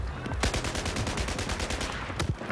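Sustained automatic gunfire in Battlefield 4 during a South China Sea mission, a rapid, even train of loud close shots with a couple of heavier reports near the start and end.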